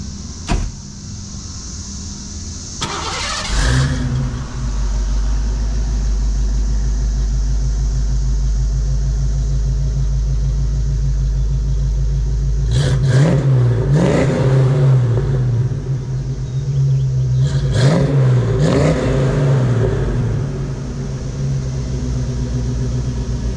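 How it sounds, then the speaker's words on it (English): A Foxbody Ford Mustang with a 5.0 V8 and Mac mufflers cranks and fires up, settling into a loud, deep rumbling idle, then rises in two separate sharp revs that each fall back to idle. A faint high insect buzz is audible at the start. "so we're gonna fire up the Mustang and drown out the sound of those cicadas."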